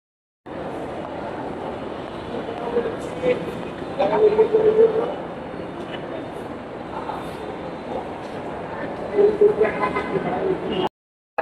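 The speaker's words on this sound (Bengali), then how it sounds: "তো বন্ধুরা মেট্রো রেল চলে আসছে" A Dhaka Metro Rail train pulls into the station with a steady rumbling roar and a couple of louder surges, fairly close and continuous, while a voice talks over it.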